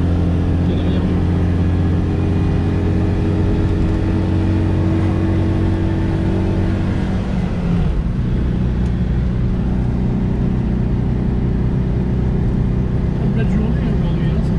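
A weak-engined Citroën 2CV 6 drives steadily, its low, constant engine drone and road rumble continuous throughout, with a brief shift in tone midway; people talk in the car over the engine noise.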